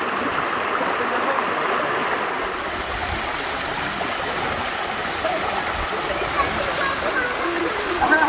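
A waterfall at a Turkish nature site rushes loudly and without pause as a steady broadband roar, close by, with people talking faintly beneath it.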